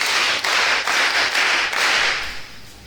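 A church congregation claps in rhythm during worship, a loud, steady run of hand claps with no talk, thinning out toward the end.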